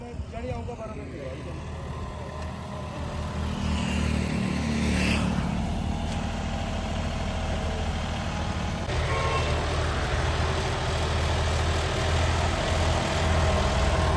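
A John Deere 5210 tractor runs on its first ride, a steady loud low engine drone throughout with a brief horn toot and people talking nearby.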